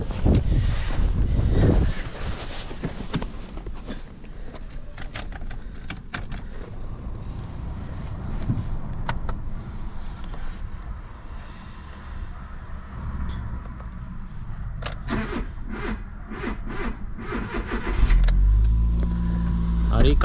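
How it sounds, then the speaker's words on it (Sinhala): A car engine turns over and starts with a loud low rumble at the beginning and again near the end, while a person talks and keys and a power window move in between. "කාරක ස්ටාර්ට් වුණා"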